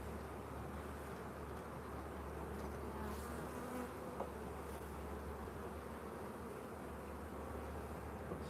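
Honeybees buzzing in a dense, continuous drone around an open hive during a live inspection, close and steady with no pauses.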